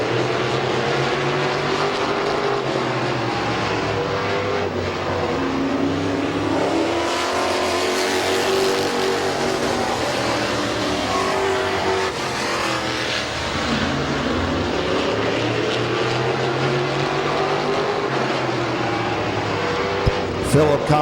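Race cars at Midvale Speedway roar continuously with revving, rising and falling engine pitch as they circle the track, loud and sustained beneath a track announcer's running commentary.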